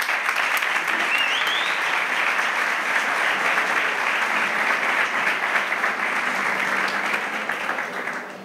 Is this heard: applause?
yes